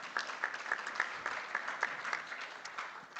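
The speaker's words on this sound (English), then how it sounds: "give him a warm hand of applause" Audience applause at a construction law conference, a steady wash of many hands clapping with sharper individual claps standing out, moderately loud and sustained throughout.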